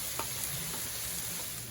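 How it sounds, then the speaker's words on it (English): Beans are stirred into melted bacon grease on a griddle, giving a continuous close sizzle with a few soft scrapes of stirring, all at low volume and without any talk. "Right now I'm just mixing in the beans with the bacon grease."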